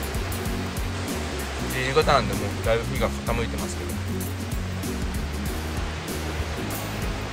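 Sea waves at a calm beach in late afternoon, a steady soft wash of surf under a person talking throughout.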